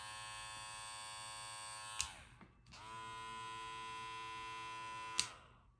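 A TPOB Play hair clipper motor runs with a steady electric buzz, close and alone, cut off briefly around two seconds with a click, then restarted and humming until another click near the end.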